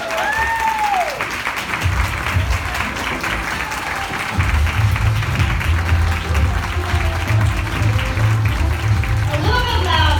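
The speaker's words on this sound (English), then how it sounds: "So give a big hand for our panelists." Audience applause for panelists coming onstage at a Create Cultivate panel event, steady crowd clapping sustained throughout, with a voice talking over it and music underneath.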